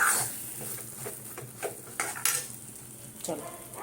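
A spoon scrapes and clatters steadily against a pan as a sandesh mixture is stirred continuously, with uneven metallic knocks and light sizzling up close, no voices.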